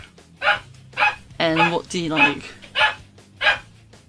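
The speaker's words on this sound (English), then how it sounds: "there was dog barking a lot" A dog barks in short, sharp bursts about five times at a steady pace, mid-distance, with a person talking over and between the barks.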